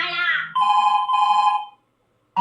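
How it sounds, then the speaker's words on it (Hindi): Phone ringtone in a cartoon comedy, a loud, close electronic melody playing in two bursts, then a short silence before another burst starts. "ऑफिस से फोन कर रहा है"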